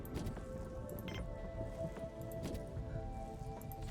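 Storm rain in the base-building video game Planetbase: a soft, steady patter with scattered drips, fairly quiet, over a low sustained tonal background.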